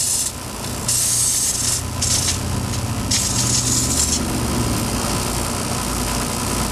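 A torch flame roars steadily while heating tungsten pieces to yellow heat, a continuous loud hiss with a few surging bursts as the flame shifts.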